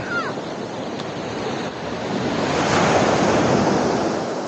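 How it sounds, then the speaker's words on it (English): Strong, rough ocean surf rolling onto Desaru beach in Johor, a steady loud wash of breaking waves that swells midway, with wind buffeting the microphone and no voices. "Okay, the waves are quite strong"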